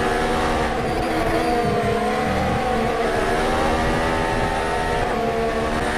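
A race car engine drones at high revs throughout in a mobile racing video game, a loud, steady buzzing whine with slight pitch shifts and no speech.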